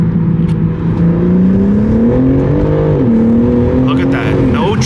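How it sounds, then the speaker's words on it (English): A modified BMW G80 M3 drops a gear and pulls hard, its engine note climbing in loud, close, sustained harmonics with a brief dip at the shift before revving up again. "All right, guys, a little downshift."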